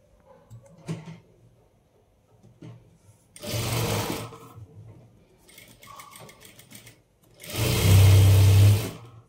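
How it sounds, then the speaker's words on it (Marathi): A sewing machine stitches a half-inch seam on a piped sleeve lining in short runs: a faint whir first, then two louder bursts of steady motor hum and needle clatter with quieter handling between them. "आता आपण याला अर्धा इंचाचा अशी टीप मारून घेणार आहोत"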